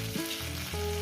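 Vegetables frying with salt in a pan give a continuous hiss that sits under sustained tonal background sounds, brief and fairly loud.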